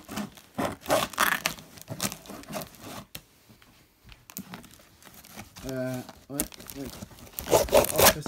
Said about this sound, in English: I can just rip the rest of this open.